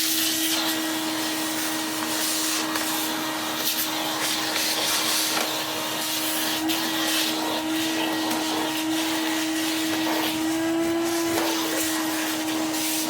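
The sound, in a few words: Numatic vacuum cleaner running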